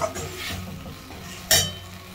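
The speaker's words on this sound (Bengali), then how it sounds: "এটাকে দুই মিনিট তিন মিনিট এরকম নাড়িয়ে নেব।" Food stirred in a pan over a high flame, with a soft sizzle under scraping strokes and a sharp metallic clink of utensil on pan about midway, close and moderately loud.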